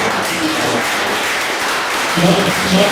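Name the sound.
audience applause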